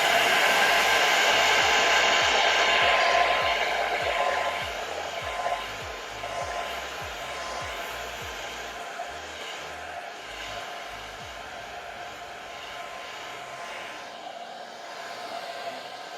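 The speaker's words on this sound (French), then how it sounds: "le sèche-cheveux" A hair dryer blows continuously while drying a handmade Andy Warhol craft mask, a loud steady whoosh that eases slightly in level partway through and then runs on evenly.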